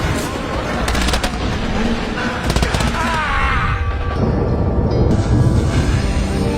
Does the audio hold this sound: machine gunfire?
yes